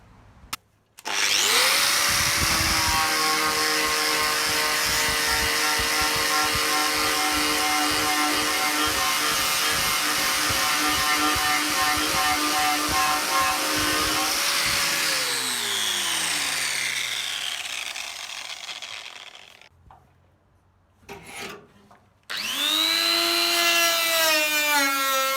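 Angle grinder stripping paint from a car body, a loud, steady high-pitched whine with a gritty scraping edge that holds for about fourteen seconds and then winds down. After a pause, the grinder briefly starts up again.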